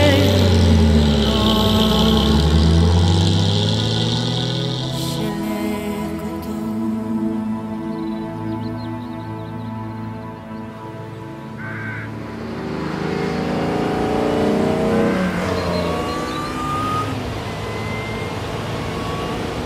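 A classic racing car engine drives through open countryside, a steady close drone whose pitch climbs and falls as the car changes speed, running throughout with no talking.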